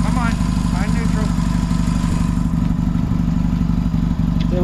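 A 1981 Yamaha XS650 motorcycle that sat unused for years runs with a loud, steady, close engine drone and a rhythmic mechanical clatter throughout.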